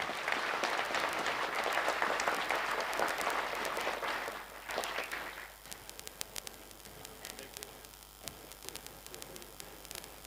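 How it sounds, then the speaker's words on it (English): Applause from a graduation ceremony audience at Kenya's National Defence University fills the first half, dense and steady, then thins into scattered claps and faint static with a low hum underneath. "Let us give them a round of applause."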